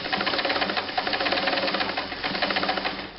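A Kenmore 158.510 sewing machine stitches a full width zigzag, a close, continuous rapid mechanical clatter at steady speed, easing off slightly at the very end.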